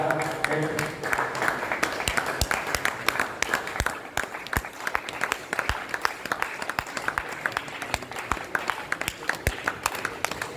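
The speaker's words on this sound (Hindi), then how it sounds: "तालियां जब तक बजती रहेगी तब तक हौसला और बढ़ता रहेगा" Scattered, crisp claps ring out from a crowd at a strongman event where a wrestler takes hammer blows to the body, sharp individual hits over a noisy, busy background, with voices mixed in.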